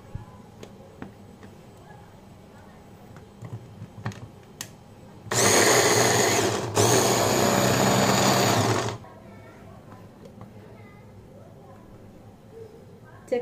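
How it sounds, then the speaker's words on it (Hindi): Electric mixer grinder coarsely grinding tomatoes and green chillies, a loud harsh whirring burst of about four seconds with a brief pause in the middle, set against quiet kitchen background. "हरी मिर्च भी, और इसे हमें दरदरा पीसना है, बिल्कुल हमें इसे महीन नहीं करना है।"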